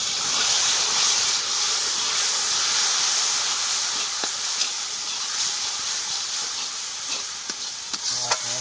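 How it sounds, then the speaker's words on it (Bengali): Water poured into spices frying in oil sets off a loud, continuous sizzle and hiss of steam, with a few faint clicks and stirring knocks near the end and no talking. "এর মধ্যে একটু জল দিয়ে দেবো যাতে মশলাটা পুড়ে না যায়।"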